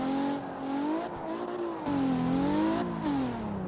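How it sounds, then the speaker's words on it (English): A Nissan 350Z Nismo in the CarX drift video game revs hard and loud, its engine pitch rising and falling in sweeping waves as it is pushed through a corner, with no talking. "it's basically just the Nismo 350Z"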